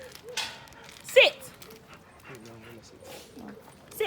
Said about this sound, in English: Oh, look who's waiting for us. The dogs.